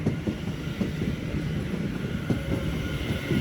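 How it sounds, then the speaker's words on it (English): A London Northwestern Railway Class 730 electric train on a test run rumbles past at Stafford on the West Coast Main Line, a steady low roar with faint rhythmic wheel clatter throughout, fairly close and without talk. "on a London North Western Railway test run from Nuneaton to Crewe."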